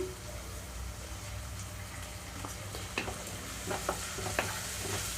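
Onions fry in a pan over a medium flame for sorakaya (bottle gourd) curry with coconut milk, a quiet steady sizzle with a few light clicks of stirring near the end.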